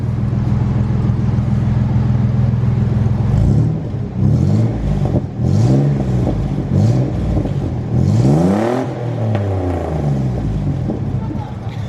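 A Chevrolet S-10 Xtreme pickup with a 4.3 V6 and a newly fitted exhaust, loud and close: a steady idle, then several sharp revs climbing and falling back, with a final strong rev near the end.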